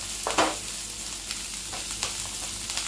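Ginger and tamarind sautéing over low heat in a pan for Andhra-style ginger chutney, giving a soft, steady sizzle with a few louder stirring scrapes near the start and scattered clicks after, with no voices.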